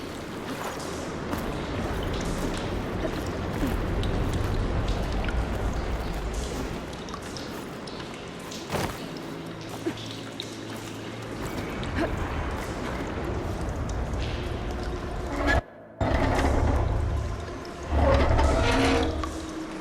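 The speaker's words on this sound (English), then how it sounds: "Aloy, I can hear water in the room again." Water rushing and flowing through pipes after a valve is opened in the Horizon Forbidden West video game, a steady broadband wash with gurgling, briefly cut off near the end before resuming louder.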